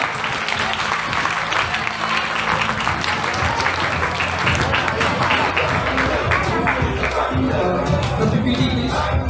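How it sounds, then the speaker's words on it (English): An audience applauds at a school festival, producing loud, dense clapping mixed with crowd murmur and a few shouts, steady from start to finish. "Please give him a round of applause."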